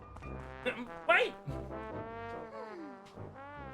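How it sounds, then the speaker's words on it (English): A character in the Zelda game Skyward Sword gives a deep, honking, foghorn-like vocal grunt, a few short bursts over a couple of seconds against a quiet game background. "Goose has kind of like a foghorn leghorn sound."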